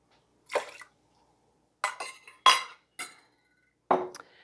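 Water poured over uncooked rice in an Instant Pot inner pot comes through as several short, bright splashing bursts spaced by silences, close and moderately loud.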